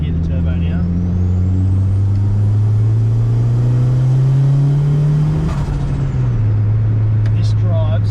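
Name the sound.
turbo on a Honda Civic with D16 turbo engine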